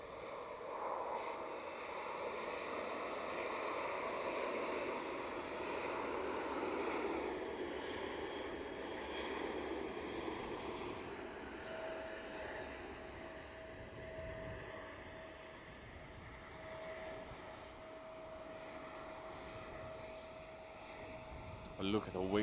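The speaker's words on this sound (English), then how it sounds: "Taking off from runway 36 center." A 777-300 jet departing from runway 36 centre at Schiphol at night, its engines a broad, steady roar that swells then slowly eases, with a thin sustained tone emerging later and voices talking over it.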